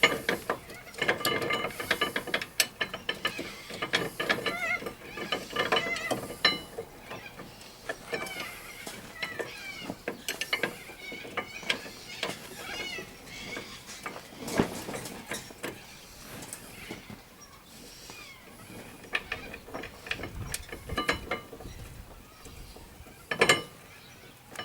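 Original bolts are tightened back onto a Subaru brake caliper with a ratchet, giving close, uneven bursts of clicking pawl with pauses and a few sharper knocks between them.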